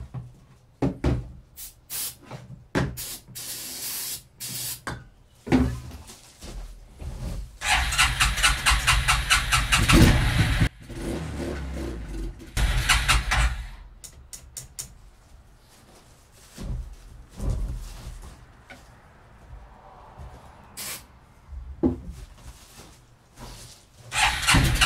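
A 1994 Suzuki Quadrunner 250 4x4 ATV engine cranks and catches on starter fluid, uneven bursts of starter whir and sputtering revs that run several seconds before dying, repeated attempts with quiet gaps between.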